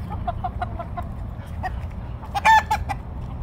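Free-range chickens clucking outdoors, with a rooster among them: a run of short, evenly spaced clucks, then a louder, brighter burst of calls near the end, all over steady low background noise.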